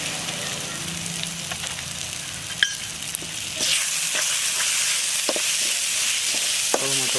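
Goat lungs fry with salt, coriander powder and red chilli powder in a loud, dense, continuous sizzle, with occasional stirring clicks and a brief clank close by, and no talking.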